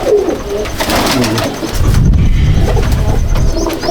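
Pigeons coo in a loft, a dense overlapping chorus of low, throaty calls with some wing flutter, close and loud.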